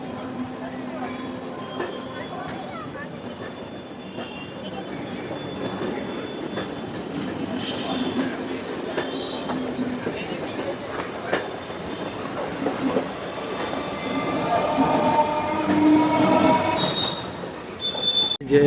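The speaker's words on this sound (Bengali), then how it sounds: "একদম মিলেনিয়াম পার্কের সামনের এই রাস্তা দিয়ে যাচ্ছে লোকাল ট্রেন।" A local train rolls past on the line beside the road by Millennium Park in Kolkata, its wheels clacking and squealing in a steady rumble that grows louder toward the end, with voices nearby.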